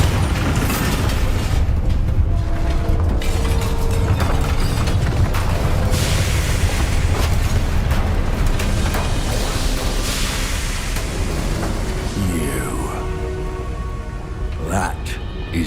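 In Hogwarts Legacy, the Bombarda spell blows up against a drill, a heavy booming blast that rolls into a long, dense rumble with debris and machinery noise, loud and close, fading slightly toward the end.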